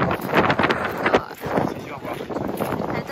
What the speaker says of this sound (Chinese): 还在下雨，是风很大。